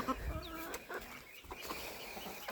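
Chickens cluck and chatter nearby in short, irregular bursts, with faint outdoor background noise.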